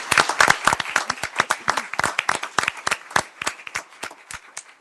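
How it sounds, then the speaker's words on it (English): Applause from a modest group at a city council meeting, individual sharp claps clearly separated and rhythmic, fairly near, tapering slightly toward the end with no speech over it. "Let's give him one round of applause."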